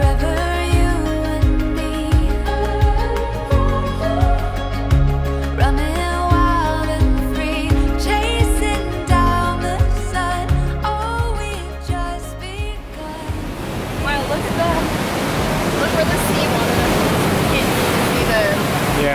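Surf washing onto a chilly beach where cold water rolls in from the Antarctic, a steady broad wash of breaking waves that takes over after a stretch of rhythmic music fades out.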